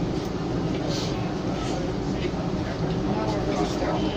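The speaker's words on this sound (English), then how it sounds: "Oh, there's the Blue Line train. Just thought I'd capture this train for a minute before we keep going." A Calgary Transit CTrain Blue Line light rail train rumbles past steadily and loudly, a continuous low roar with rail noise throughout.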